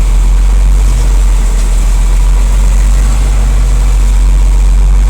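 A boat engine idles steadily, a continuous deep, even low rumble with a faint higher hiss above it and no voices.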